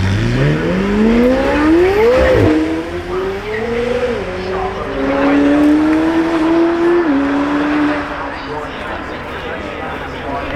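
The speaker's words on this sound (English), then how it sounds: "this is the halo product of McLaren. W1 only on static display. Here it's getting its full dynamic debut." A McLaren W1 supercar makes its dynamic debut at the Goodwood Festival of Speed, its engine climbing loudly through several rising gear pulls with shifts in between, while a commentator talks over it.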